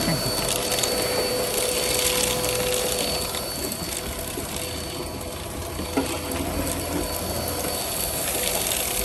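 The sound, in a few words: vacuum cleaner running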